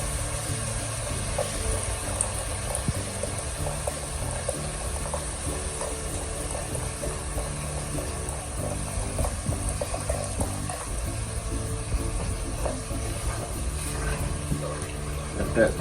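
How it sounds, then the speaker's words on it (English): Beef broth in a pot of chili jambalaya heating toward a simmer, a steady soft bubbling and sizzle with faint clinks, while a person speaks over it. "Let that come to a good simmer."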